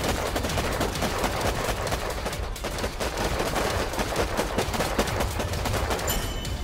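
Airstrike called in by an engineer unit in the strategy game Warpips: a dense, sustained barrage of gunfire and explosive blasts rumbling continuously at steady loudness, with no talk.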